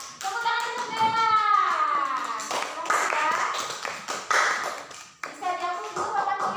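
Classmates clap for a student called to the front of a primary classroom, a scattered patter of hand claps mixed into children's voices and chatter.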